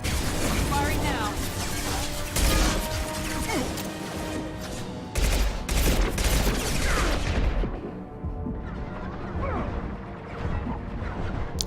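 Video game gunfire sounds as dense, loud bursts of shots and crashing impacts, with heavier booms around the middle before it thins toward the end, while a person talks over the action.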